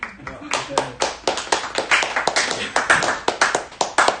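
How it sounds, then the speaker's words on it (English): Guests at a bar during a birthday cocktail class clap in a loud, quick, uneven rhythm, the claps close and sharp, with some voices underneath. "guys are clapping"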